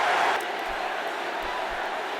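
Stadium crowd noise from a football video game, a steady broad roar of cheering that swells briefly at the start and then holds at a constant level as background ambience.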